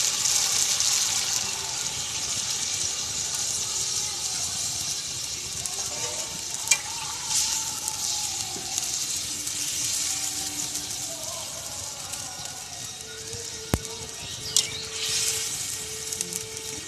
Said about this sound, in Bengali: মাংস কষানো আমার রেডি। জল দিয়ে দেব।